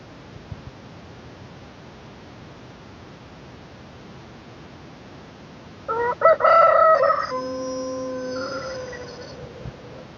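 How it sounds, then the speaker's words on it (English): A rooster crows loudly once amid a quiet, hissy background, with chickens kept at a museum's small animal zoo, the call ringing out clearly for a couple of seconds. "chickens making chicken sounds"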